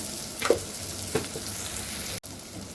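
Bitter gourd curry frying in a pan, a steady close sizzle with a couple of spoon scrapes and a brief cut near the end, no voices.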